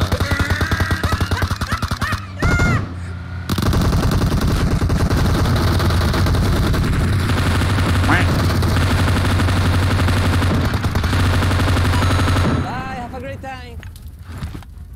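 Automatic gunfire rattles in the video game PUBG Mobile: long, rapid, loud bursts with brief gaps between them, while players talk over the shooting.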